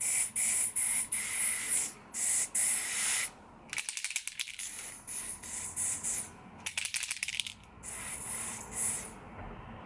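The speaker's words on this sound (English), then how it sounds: "That's me spraying a lot in one area." Bairly Sheer spray-on foundation blush is sprayed from an airbrush-style nozzle in repeated close, loud hissing bursts, some short and some sustained, with brief gaps and rattling clicks between them.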